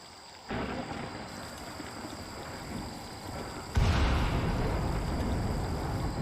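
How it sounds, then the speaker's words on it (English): Rumbling thunder from a lightning storm in the colony-building game RimWorld, with a broad roar starting suddenly and then a louder, deeper crack-and-rumble midway that rolls on steadily without speech. "lightning storm."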